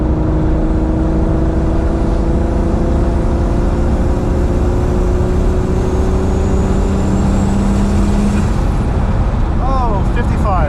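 A turbocharged VR6-swapped Audi A4 B5 drives along a highway, its engine droning steadily with gear-held tones rising and falling and a brief turbo whistle near the end, loud and continuous from inside the car.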